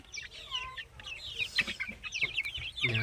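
A flock of young Sonali chickens, about forty days old, cluck and cheep continuously at close range in overlapping chatter, and one louder, harsher squawk comes near the end.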